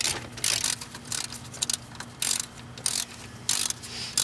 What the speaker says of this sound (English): I'll go ahead and take the brake caliper off